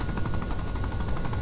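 A helicopter setting down in the military game ARMA 3, a loud continuous rotor chop with a steady pulsing beat filling the whole clip and no talking.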